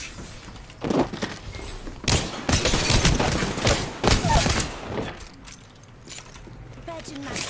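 Gunfire from the Apex Legends game comes in bursts and rapid volleys with sharp impacts and some mechanical clunks, loud and close, while a voice speaks intermittently over the shooting.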